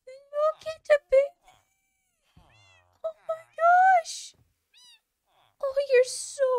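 A kitten in Minecraft gives several short, high meows in quick bursts, mixed with excited talking from a player.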